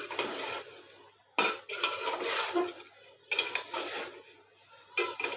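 Salt, turmeric and chili are stirred into a cooking pot of bean, potato and dried fish curry, a spoon scraping and clinking against the metal in uneven bursts with short pauses between strokes.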